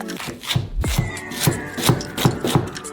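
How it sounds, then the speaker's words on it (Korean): Knife chopping chives on a cutting board, with a steady run of crisp, evenly spaced cuts heard up close, alone and without any talk. "반으로 자르고 줄기를 따라 잘라주고"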